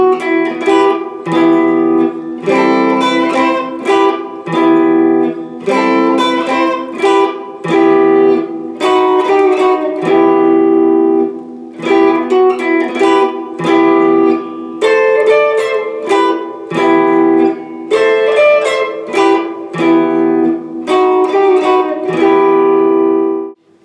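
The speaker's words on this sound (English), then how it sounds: "This whole instrumental section played slowly sounds like this" Guitar plays the instrumental section of a song slowly, a steady run of picked notes and chords ringing continuously for about twenty-four seconds with no talking.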